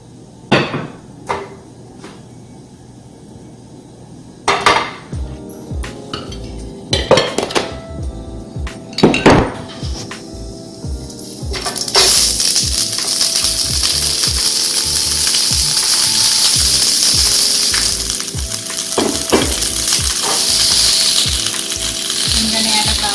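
Broccolini cooking in a wok, with scattered metallic clinks and knocks of utensils against the pan early on, then a steady loud sizzle of frying in oil filling the second half.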